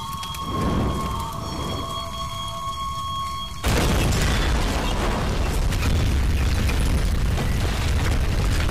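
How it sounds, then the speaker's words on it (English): An explosion in the video game Tomb Raider (2013) bursts in abruptly partway through, followed by a sustained loud, rumbling, crackling roar like debris and fire, after a quieter tonal ambience. "And also explosions are great in enclosed places as well."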